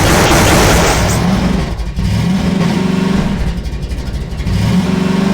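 A vehicle engine in Half-Life 2 revs loudly and continuously, with a brief dip partway through before the steady mid-pitched roar builds again close by.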